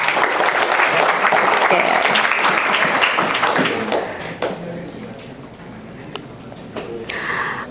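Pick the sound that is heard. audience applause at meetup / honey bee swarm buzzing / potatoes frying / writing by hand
audience applause at meetup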